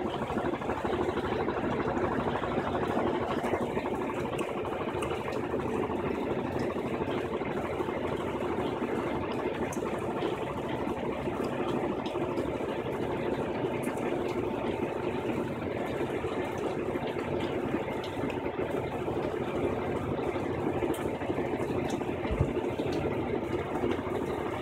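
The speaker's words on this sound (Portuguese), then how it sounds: "Ela não tem freio, ela desliga o motor e vai até parar." Electrolux 16 kg washing machine after its final spin, the motor switched off and the drum coasting to a stop without a brake, a steady, even whirring rumble with no talk.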